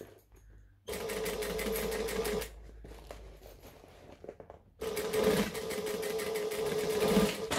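A sewing machine stitches through a bag in two loud bursts of steady mechanical whirring, separated by a quieter pause of handling noise.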